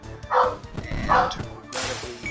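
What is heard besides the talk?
boxer dog barking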